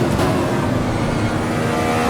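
A race car engine roars loud and close as the driver gets back on the throttle out of a corner, giving a dense, sustained drone with no break.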